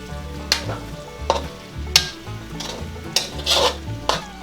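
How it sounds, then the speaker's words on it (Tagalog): Pork tripe adobo stirred in a pan, a spoon scraping and knocking against the metal in irregular strokes over a steady low sizzle, close and fairly loud with no talk. "Ngayon po ay hahaluin na naman po natin para hindi po siya masunog yung ating pork tripe."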